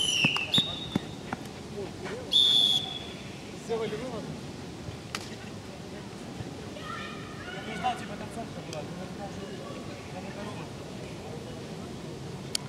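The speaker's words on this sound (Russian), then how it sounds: "Звучит свисток, у нас перерыв 1-1." A referee's whistle signals half-time at an amateur league football match, Luxor against Stelmakh: a couple of short, shrill blasts rising over steady outdoor pitch noise and distant ambient sound.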